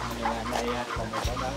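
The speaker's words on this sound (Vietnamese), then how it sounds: "Có cái đàn gà sáo này đẹp này" A flock of seventeen guinea fowl forages on a farm, giving a steady stream of close, overlapping clucking calls.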